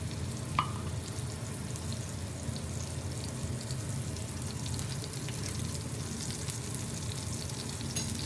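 Steak searing in a little oil in a cast iron pan, a steady close sizzle and crackle that holds evenly throughout with no voices.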